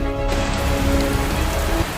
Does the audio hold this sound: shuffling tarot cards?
no